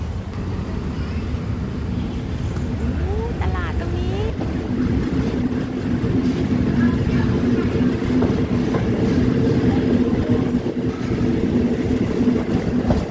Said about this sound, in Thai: ขบวนรถชานเมืองขบวนที่372ไปทางสถานีกรุงเทพออกจากสถานีมักกะสันแล้ว